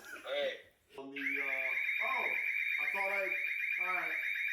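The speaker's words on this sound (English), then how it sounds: "Imagine having 20 seconds to call the owner when the alarm's going off." A house security alarm at a luxury Bel Air property sounds a steady, piercing electronic tone, with people talking loudly over it nearby.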